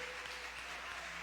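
Church congregation clapping during a family worship service, a faint continuous wash of applause with a low steady hum beneath it.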